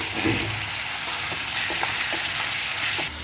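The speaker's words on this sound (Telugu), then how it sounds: "ఇదైతే ఇగురికి గ్రేవీ కోసం ఉల్లిపాయ ఏగుతుంది" Sliced onion frying steadily in hot oil for a fish curry gravy, a continuous dense sizzle with occasional soft stirring clicks, close and fairly loud throughout.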